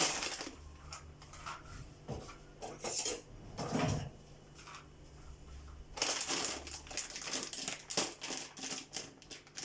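Cutlery and pots clatter in a home kitchen while pasta is being cooked, a knife picked up amid bursts of metallic clinks and scrapes, fairly quiet and close, with no talk.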